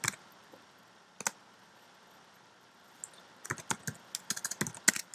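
Computer keyboard keys clicking as a username and password are entered, a few isolated taps and then a quicker burst of close, crisp keystrokes in a quiet room.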